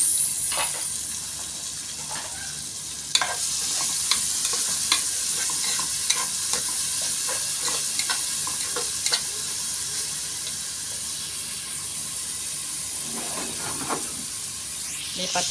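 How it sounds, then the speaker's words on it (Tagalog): Onions sizzle as they are sautéed in a pan for cabbage stir-fry with tuna, a steady close hiss of frying broken by scattered clicks of stirring against the pan, with only a little talk. "Ilagay na lang natin ang sibuyas."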